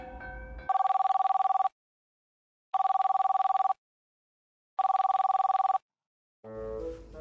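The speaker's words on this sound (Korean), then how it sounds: "일단 대성 씨에게 전화를 해서 확인을 해보겠습니다" A phone ringback tone sounds three times, evenly spaced one-second buzzes with silent gaps, framed by brief muffled noise at the start and end.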